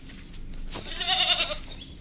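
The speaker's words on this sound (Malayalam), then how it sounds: "ഈ ഫസ്റ്റ് കാണിച്ചേക്കുന്നത് ഫീമെയിൽ ആടാണ്" A female goat in milk on a Kerala farm bleats once in a drawn, wavering call, close and clear over a low background murmur.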